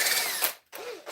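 A power drill fitted with a badly bent bit grinds deeper into a Japanese santoku kitchen knife, a loud close whine that cuts out briefly and then resumes.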